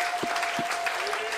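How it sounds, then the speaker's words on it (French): A church congregation at a French-language worship service applauds in acclamation, a moderate wash of clapping with a sustained tone and a couple of low thumps mixed in. "Béni, donnons une acclamation."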